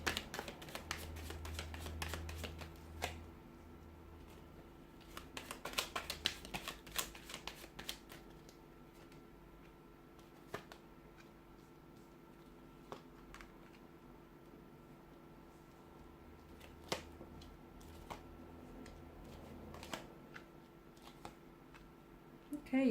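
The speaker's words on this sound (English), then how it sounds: "we'll give the cards a shuffle and see what they're predicting for you" Repeated bursts of tarot cards being shuffled and riffled close by, separated by quieter stretches of handling and soft rustling.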